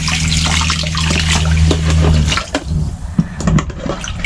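Water runs from the outdoor faucet of a 2018 Travato camper van after the water pump is switched on, a loud close splashing gush over a steady pump hum that stops partway, followed by scattered drips and handling noises.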